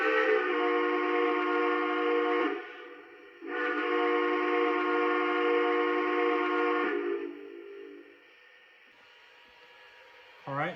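A steady, harmonic Lionel Dreyfuss Hudson model train whistle sounds in two long blasts of about three seconds each, then trails into a softer tone and near quiet, ending with a brief burst.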